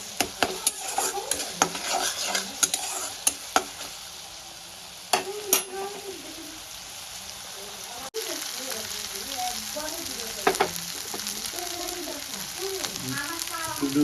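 Onion with ginger, garlic and green chilli paste sizzles in a pan while a spoon scrapes and clinks against it, stirring strokes coming in irregular bursts; someone speaks over the cooking.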